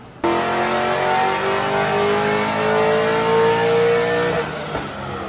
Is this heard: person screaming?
no